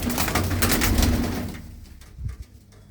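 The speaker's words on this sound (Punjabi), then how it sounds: "ਤੇ ਕਬੂਤਰ ਬੜੇ ਬੜੇ ਵਧੀਆ ਨੇ ਬਾਈ" Low cooing from blue-footed pigeons rolls on for about a second and a half, then quiets, leaving faint rustling and a brief scuffing knock near the end.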